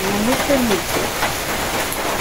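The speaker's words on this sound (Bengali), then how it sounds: "সেইরকম বৃষ্টিটা হয়ে গেল মুহূর্তের মধ্যে।" Steady, dense hiss of rain falling continuously, with a few faint tonal sounds in the first second.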